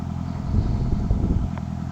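A Honda CBR650F motorcycle engine runs nearby with a low, rough rumble that swells briefly, as if revving slightly, then settles back to idle.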